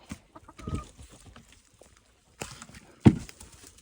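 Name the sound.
chickens clucking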